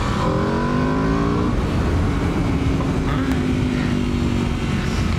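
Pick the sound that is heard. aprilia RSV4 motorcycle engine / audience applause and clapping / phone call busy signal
aprilia RSV4 motorcycle engine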